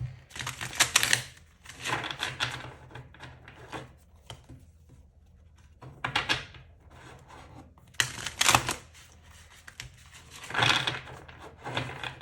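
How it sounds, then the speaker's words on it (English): Bursts of rapid papery riffling and flapping as cards are shuffled, several separate flurries with pauses between, close and fairly loud, no talking. "These cards are hard to shuffle."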